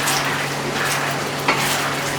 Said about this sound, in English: So just keep on stir frying it like this so that there won't be any burns.